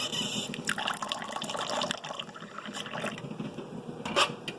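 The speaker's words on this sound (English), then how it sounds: "the trick is to add just a little bit of water" A small amount of water is poured into whisked eggs in a bowl, making a quiet, brief splash and trickle close by.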